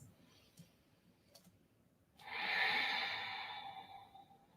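Slow audible throat breathing during a yoga flow, a soft airy breath rising for about two seconds and fading gently, preceded by a few faint clicks in a quiet room.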